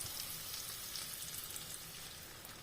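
An egg for an omelette sizzles steadily in a hot pan, a faint, even crackle of frying with no voices.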